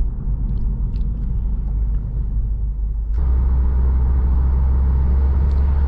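Low, steady road and engine rumble inside a 2016 Subaru WRX with a 6-speed manual, a constant drone that steps up louder partway through as the car pulls harder.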